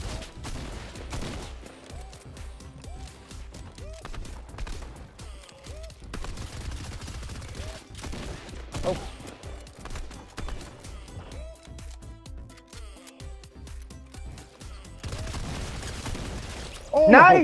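Rapid-fire SMG gunfire in Fortnite, repeated quick bursts of shots mixed with footsteps and game effects, and voices talking now and then.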